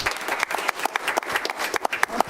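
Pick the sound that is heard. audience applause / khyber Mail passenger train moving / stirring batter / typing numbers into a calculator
audience applause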